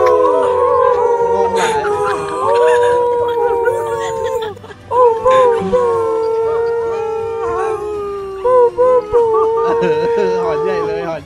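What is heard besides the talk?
wolves howling loudly in GTA V roleplay video game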